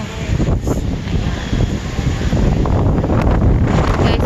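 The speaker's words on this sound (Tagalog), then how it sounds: "so lakas ang hangin yan" Strong typhoon wind during flooding roars and buffets the microphone in continuous rushing gusts that grow slightly louder toward the end.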